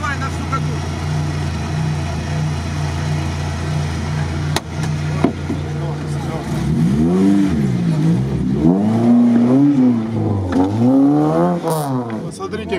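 An off-road vehicle's engine, a Chevrolet Niva or a Patrol, Mercedes and GAZ-66 based monster, revs and surges loudly as it drives, its pitch rising and falling in repeated waves, with voices talking over it.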